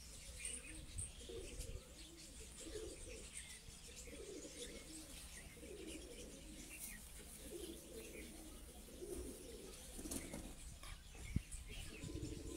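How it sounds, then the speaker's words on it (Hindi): Pigeons coo in Punjab during a racing pigeon flying event, with soft, low, repeated cooing and occasional chirps, faint and a little distant over a quiet background. "हम शौक उन कबूतरों का करवा रहे हैं जो इनके परवाज में"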